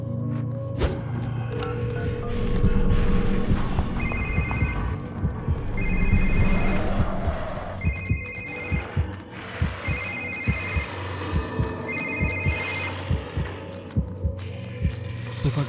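A telephone in the horror game The Evil Within rings in repeated bursts of high electronic tones, each roughly a second long, over a droning, throbbing ambient soundscape with low thuds.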